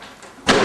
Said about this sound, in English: Or close the door